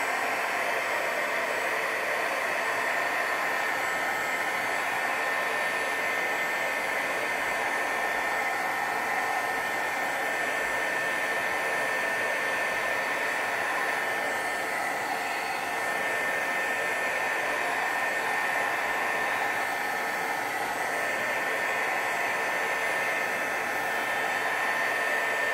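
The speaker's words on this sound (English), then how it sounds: "take the heat tool to this" A craft heat tool blows hot air over a handmade feather card, giving a steady, loud whooshing whir that runs unbroken for the whole stretch with no talking.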